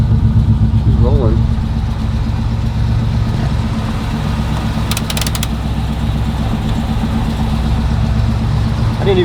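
A 1968 Chevrolet Camaro SS with a 396 V8 and four-speed idles with a steady low rumble throughout, close and loud, while people talk over it.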